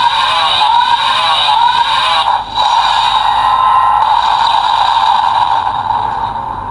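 Close and loud, a Kamen Rider DX Breakam Buster toy plays its charge attack effect: a continuous synthetic whine with warbling, revving electronic tones and one short dip, with no talking over it.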